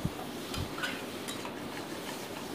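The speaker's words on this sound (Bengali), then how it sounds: "ভালো করে কষিয়ে নিচ্ছি এবার।" Spices being stirred and fried in a pan for a Bengali fish curry, with soft scraping and a few light clinks of utensil against metal over a steady background hiss.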